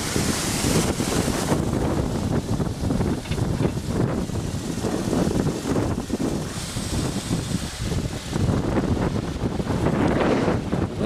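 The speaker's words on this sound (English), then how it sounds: "Wind's gusting here." Strong wind gusting outdoors beside a homemade wind turbine with pipe tower, blades and small DC permanent magnet generator, loud buffeting rushes and microphone rumble rising and falling continuously.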